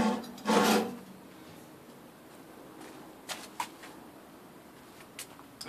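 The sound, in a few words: metal pallet fork sliding onto tractor bucket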